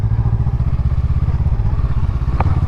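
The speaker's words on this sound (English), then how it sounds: "Bike's been warming up for about like 15-20 minutes" Honda Rebel 500 motorcycle idling after a long warm-up, a close, loud, steady low thumping beat throughout with a brief clatter near the end.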